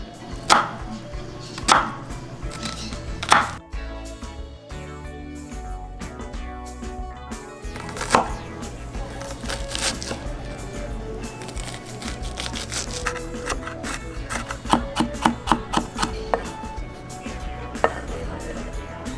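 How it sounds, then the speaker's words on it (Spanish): Half an onion is chopped with a knife on a board for a Colombian shrimp casserole, in bursts of sharp, close taps, some spaced and some rapid, with faint background noise between them. "Vamos ahora a picar media cebolla cabezona o media cebolla de huevo."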